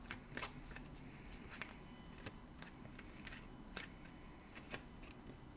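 Soul's Journey oracle cards being shuffled by hand, a steady papery riffle with repeated sharp flicks and snaps, close and fairly quiet with no talk.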